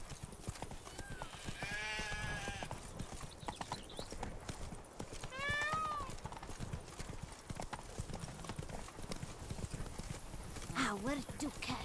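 Roach, the horse in The Witcher 3's Toussaint, gallops in steady rhythmic clip-clop hoofbeats that run through the whole passage, with a voice and a brief whinny-like tone over the hoof rhythm.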